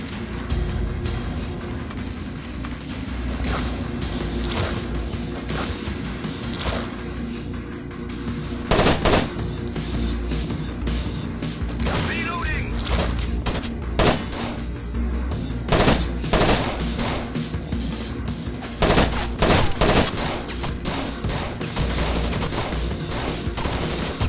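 Rapid automatic gunfire from the PC shooter Rainbow Six Vegas 2 in an Arena match on Realistic difficulty: sustained machine-gun bursts and single shots blend into a continuous loud fusillade, with sharper volleys standing out throughout.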